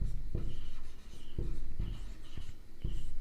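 Chalk or pen writing on a board during a Hindi geometry lesson on Heron's formula for a triangle's area, giving soft scratchy strokes in short bursts with brief pauses between them.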